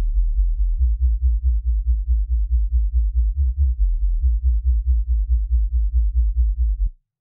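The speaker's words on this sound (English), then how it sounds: "Normally I wouldn't use this much distortion on a sub, but here it seems to help the sub feel more present." A heavily distorted sub bass synth for dubstep, made in Ableton Live, throbs in a steady pulsing rhythm of deep, loud notes with no high content, then cuts off abruptly at the end.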